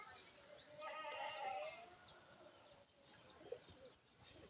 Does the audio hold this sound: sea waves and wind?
no